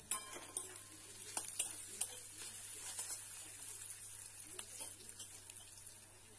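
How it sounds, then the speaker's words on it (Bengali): Finely chopped onions fry in spiced oil in a pan, a faint steady sizzle broken by scattered ticks and scrapes from stirring, quiet and close. "এবার পেঁয়াজটাকে ভালোভাবে ভেজে নেব"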